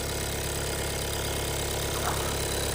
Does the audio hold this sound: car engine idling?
yes